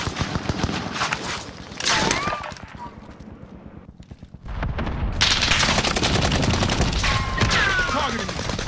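Dense, rapid gunfire from a video game firefight, with automatic bursts crackling almost nonstop, easing into a brief lull, then surging back loud and continuous.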